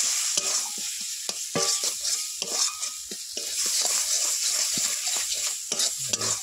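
Spice paste frying in a pan as it is stirred, a close, continuous sizzle broken by frequent sharp scraping and clinking strokes of the spoon against the pan, with no voices.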